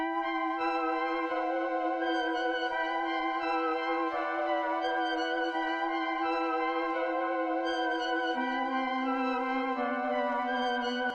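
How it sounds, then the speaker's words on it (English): Dark synth melody on the Blade of Canada preset in Analog Lab 5, a sustained, harmonically rich pad line shifting slowly between notes, dropping lower near the end, continuous and steady throughout with no voices. "I switched it over to Blade of Canada, which is a preset in Analog Lab 5"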